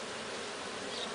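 Melipona stingless bees buzzing around blooming ora-pro-nobis flowers, a dense continuous hum of many insects close by, steady and alone.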